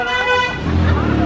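Car horns honk on a busy street in Vietnam, with overlapping toots sounding close and loud above the traffic noise.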